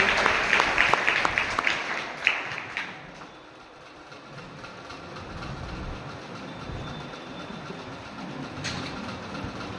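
Audience applause at a seminar marking Sardar Patel's 150th birth anniversary, welcoming a speaker to the stage: a burst of clapping at the start that fades within a few seconds into quiet room noise.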